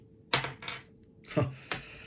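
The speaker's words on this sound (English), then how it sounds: "Let's re-roll a dice." Dice rattle and clack onto a table during a Solomon Kane tabletop game, several sharp separated clicks and knocks over two seconds, close and fairly clear with no talk.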